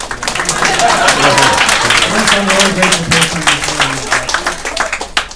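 An audience applauds steadily in a large room, a dense wash of many hands clapping under someone speaking into a microphone.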